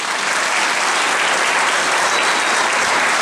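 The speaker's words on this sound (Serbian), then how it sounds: "mislim da zaslužuju još jedan vaš aplauz" Sustained audience applause at a football club anniversary celebration honoring medal-winning athletes, a thick even wash of many hands clapping, loud and close, with no voices over it.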